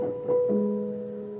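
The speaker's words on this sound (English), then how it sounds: "it has a lever here underneath on the left hand side that puts a felt in between the hammers and the strings" Yamaha U3 upright piano with the practice felt mute engaged: a few soft, muffled notes with dull attacks and short, faint sustain, alone in a quiet room.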